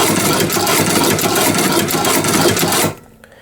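A low-cost hand-cranked leather sewing machine stitching, a loud continuous mechanical whirring clatter with fast rhythmic ticking that runs steadily close up, then stops abruptly near the end.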